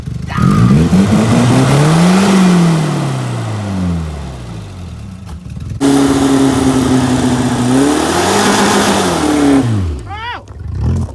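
A car engine fitted with a homemade nitrous setup revs hard in two loud sweeping bursts, climbing and falling in pitch with a brief drop between them, ending in a sputtering wind-down.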